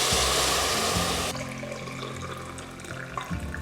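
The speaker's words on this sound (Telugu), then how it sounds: "మిగిలిన నార్మల్ వాటర్ వేస్తున్నానండి" Water pouring into a pot of biryani broth, a loud rushing gush at first that eases into a softer steady trickle and bubbling.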